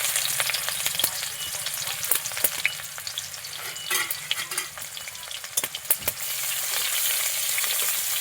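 Onion hitting hot oil in a wok for homestyle chowmein, a loud close crackling sizzle with sharp spattering pops and scraping stirs, no talking.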